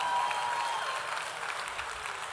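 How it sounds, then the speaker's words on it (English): An audience at a food and drink masterclass applauds Ben, with a steady wash of clapping that starts loud and tapers slightly over a couple of seconds. "Give Ben a round of applause."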